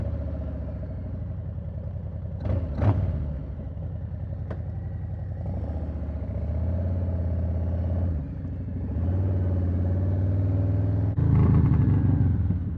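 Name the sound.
2020 Low Rider S motorcycle engine starting and running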